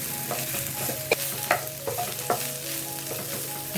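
Chicken pieces coated in spice paste stirred while frying, repeated spatula clinks and scrapes against the pan over a steady sizzle, close up.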